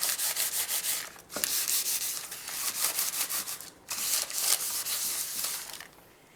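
Butter is spread across a parchment-lined baking pan for brownies, a close, steady scraping and rubbing in repeated strokes. There are brief pauses between passes and no talking.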